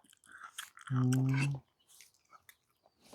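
Someone eats a chicken leg close to the mic, with soft wet chewing and crunchy bites broken by a brief humming vocal sound in the middle.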